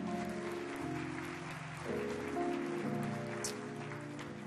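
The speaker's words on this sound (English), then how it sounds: "Give her a hand clap." Applause from a church congregation during a sermon, a soft, diffuse patter of hand clapping that sounds somewhat distant beneath sustained organ or keyboard chords.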